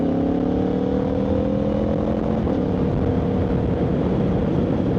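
Motorcycle engine and exhaust on a quick road ride, a steady loud drone with rising and falling harmonic tones as the bike accelerates, continuous for the whole stretch with no talking.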